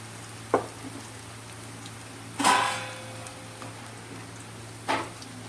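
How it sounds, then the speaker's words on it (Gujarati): Spinach pakoda fritters (bhajiya) fry in oil over a slow-medium gas flame, soft steady sizzling broken by three brief clinks or stirring knocks, close by with no talk. "સ્લો મીડિયમ ગેસ પર સારી રીતે એને ફેરવતા જઈ અને ચેડવી લેશું તો ફ્રેન્ડ્સ આપણા ભજીયા તળાઈ"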